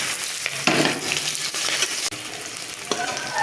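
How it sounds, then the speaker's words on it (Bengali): Chopped onion frying in hot oil with cinnamon, cloves and cardamom, a loud continuous sizzle close by, punctuated by a few sharp clicks and scrapes of stirring, with no voices. "এখন পেঁয়াজটা আমি ভালো করে লাল লাল করে ভেজে নেব।"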